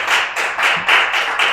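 Audience applause for two poets at a Distinguished Poets Series reading, steady, loud, close clapping swelling in short pulses and lasting about a second and a half.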